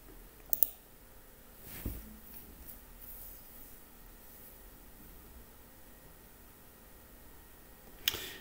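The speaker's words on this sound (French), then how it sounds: "On clique sur combiner les cartes." Computer mouse clicks while combining cards in the game Splinterlands: a couple of sharp close clicks at the start, one softer click, then quiet hum until a final click at the end.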